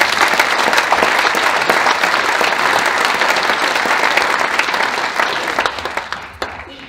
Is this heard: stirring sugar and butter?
no